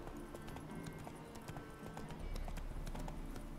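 A horse's hooves clip-clop at a steady walking rhythm in a video game, close and fairly quiet, over a low ambient background with no talk.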